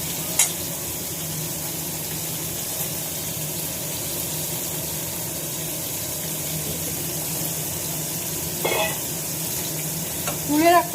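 Spices cooking in a pan make a continuous close sizzle and bubbling, with a few brief sounds and faint voices rising over it.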